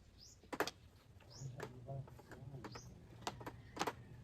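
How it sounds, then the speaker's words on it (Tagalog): A bird gives several short, rising chirps spaced a second or so apart, fairly clear above a busy background where people talk throughout. "Ibon."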